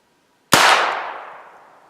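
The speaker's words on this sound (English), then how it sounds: "Upper left, Remington Thunderbolt. Try to control these shots as tight as I can." A single sharp, close .22 rifle shot fired with Remington Thunderbolt ammunition during a grouping test, a loud crack that decays quickly into silence.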